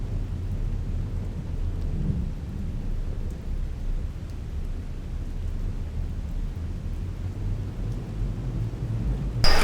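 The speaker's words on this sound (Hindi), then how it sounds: "अभी पूरी जोरदार बरसात चालू हो गई है" Heavy jungle downpour in a tiger forest reserve, steady dense rain roaring throughout with low rolling thunder rumbling underneath and a louder burst right at the end; no voices.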